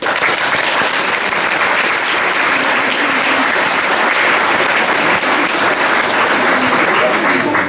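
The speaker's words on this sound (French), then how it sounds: "Pour cela, on peut également les remercier et les applaudir." An audience at a school graduation ceremony claps steadily and loudly, a dense, sustained wash of applause from a large crowd that continues without pause.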